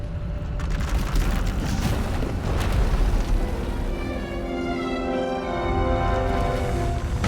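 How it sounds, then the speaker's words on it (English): A massive power eruption tears through an asylum in Star Wars: The Old Republic, a sustained roaring boom with rumbling low end and rising tonal whine, loud and continuous throughout. "Her power is racing out of control. When it erupts, the entire asylum will be destroyed."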